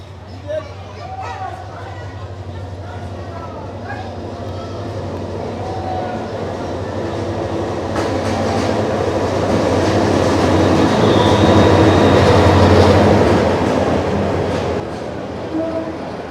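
Crowded passenger commuter train running between Jamalpur and Dewanganj, a steady low rumble that swells louder toward the end, with people chatting aboard.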